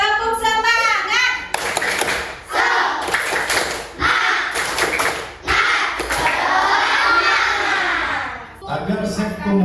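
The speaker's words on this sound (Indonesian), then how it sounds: "Oke, tepuk semangat." A class of children does a rhythmic spirit clap in a fast pattern, with bursts of clapping broken by brief pauses and loud group shouts mixed in.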